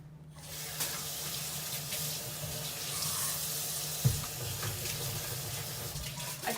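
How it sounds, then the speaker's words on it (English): A kitchen tap runs with a steady splashing hiss as hands are rinsed under it, close by, with a small knock partway through. "I'm gonna give my hand a quick rinse."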